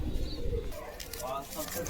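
Caged sale pigeons coo in low, soft, repeated murmurs close by, with a brief rustle of wings as birds are released.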